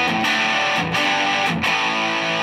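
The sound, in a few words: electric guitar through amp distortion channel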